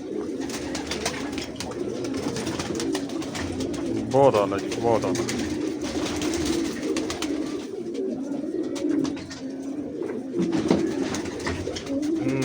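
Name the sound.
pigeons cooing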